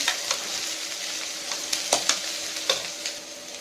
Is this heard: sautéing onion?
yes